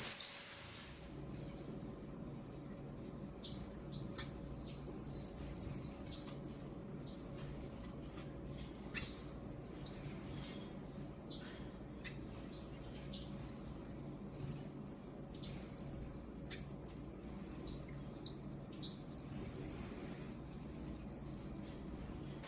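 Finches in an aviary chirp constantly in quick, high, twittering bursts, with several birds overlapping above a faint low hum.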